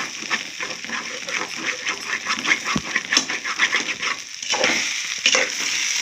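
Vegetables and rice frying in ghee with coconut for a vegetable biryani, a soft crackling sizzle mixed with scraping and stirring taps against the pan, close and moderate in level, with no talk.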